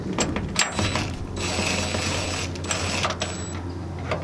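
Metal bolts are run into threaded holes on cargo tie-downs in the bed of a first-generation Toyota Tacoma, giving close clicking, ratcheting mechanical sounds in short irregular bursts.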